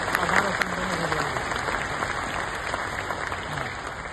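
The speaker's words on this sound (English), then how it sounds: "Let's give them a huge round of applause." Crowd at an UltraTech corporate function applauding the team, a continuous wash of clapping under a steady electronic hum, with a voice speaking briefly over it.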